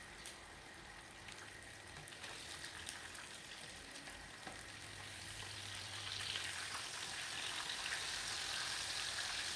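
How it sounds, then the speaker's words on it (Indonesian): Steady sizzling and crackling of chicken frying in a nonstick pan, a dense hiss that grows slightly louder toward the end, with no voices. "Saya goreng di penggorengan teflon karena takut lengket kalau penggorengan biasa."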